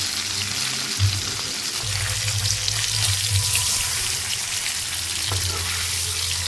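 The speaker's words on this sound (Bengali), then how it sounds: "এইভাবে আমি কয়েকটা পনিরের টুকরোকে অল্প ভেজে নেব দুপাশ।" Paneer pieces fry in oil in a pan for paneer chaap, giving a loud, continuous sizzle with occasional crackles and light stirring close by.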